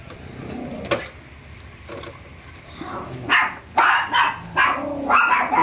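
A dog barks in a series of loud, sharp bursts during the second half, close by, after a quieter stretch of indoor room noise while a toy race track is being set up.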